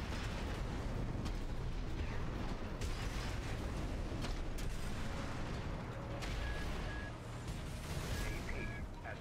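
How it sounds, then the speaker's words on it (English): Delayed rockets exploding in the mech combat game Armored Core VI, a dense, continuous rumble of blasts and bursts with small interface beeps, loud throughout. "he's got some delayed rockets there"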